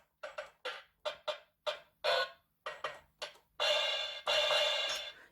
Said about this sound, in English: the different drum sounds